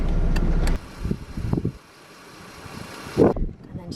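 A Ford Ka engine idles with a low, steady rumble that drops away as it is switched off, leaving a quieter hum and a brief thump; a voice is heard over it.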